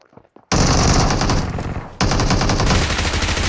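Loud, rapid automatic gunfire from a firefight in the video game PUBG Mobile, sustained bursts of rattling shots following a brief quiet moment.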